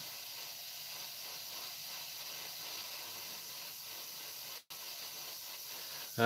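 An airbrush blows plain air to dry fresh paint on a scale model, giving a faint, steady hiss that lasts throughout with one brief break and no speech.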